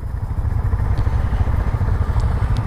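Dafra Next 250 motorcycle engine under way on a weekend ride toward a reservoir, a loud, steady low rumble with rapid pulsing, heard close up with wind, and no speech over it.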